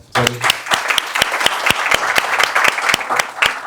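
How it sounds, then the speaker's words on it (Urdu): Sharp, scattered hand claps from an audience at a socialist party rally honouring brick-kiln labour leaders, a burst of applause that starts abruptly and carries on steadily and close. "بھٹا مزدوروں کے حوالے سے بہت بڑا نام ہے, ان کے لیے کلیپ کریں آپ"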